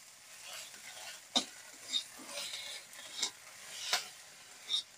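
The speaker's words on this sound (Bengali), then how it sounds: "ভালো করে নাড়াচাড়া করে নেব।" Pumpkin leaves with green chili and garlic are stirred in a pan, with soft scraping strokes and a few sharp utensil clinks over a faint, quiet sizzle.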